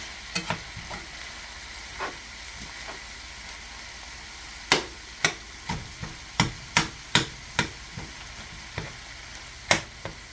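Spaghetti sauce simmers in a pan in a home kitchen with an oven running, giving a low steady sizzle. Sharp intermittent clacks of a utensil tapping the pan sound nearby, with no talking.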